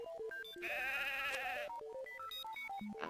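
Warbling synthesized sheep bleat from the video game Mother 3, a loud wavering call lasting about a second, set between bright chiptune-style beeps of game text scrolling.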